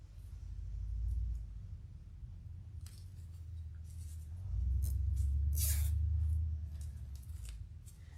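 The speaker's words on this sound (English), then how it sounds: "Zip tie them together." A plastic zip tie ratchets tight around pink and white tulip stems, a run of quick clicking rasps up close over a low steady hum, with no talking.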